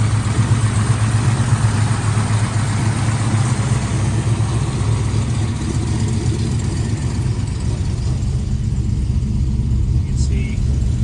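A 1968 Mercury Cougar engine idles steadily after a cold start, a continuous smooth low rumble close by with no break, its alternator charging while the temperature is still low.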